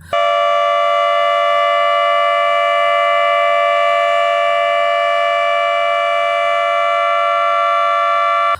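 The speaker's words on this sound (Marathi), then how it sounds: "या सायरनचा आवाज संपूर्ण शहरात पसरला" A loud municipal siren, sounded across the city for a Martyrs' Day two-minute silence, holds one long, steady wail throughout, with no voices.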